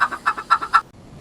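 Chicken chicks cheep in a quick series of about seven bright, high peeps, close and fairly loud, ending abruptly into quiet.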